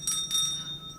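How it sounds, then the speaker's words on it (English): A small hand bell is rung to summon a maid in a Victorian household stage drama, giving a brief bright ring that decays over about a second, heard alone without talk. "Now, ring that bell for Elizabeth, will you?"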